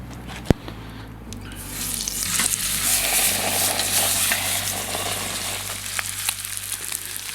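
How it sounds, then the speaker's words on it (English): Pork sears in olive oil in a cast iron skillet heated over an outdoor fire pit, a steady close sizzle that swells after a sharp knock near the start and holds loud and continuous throughout. "So we just want to sear it on that side now."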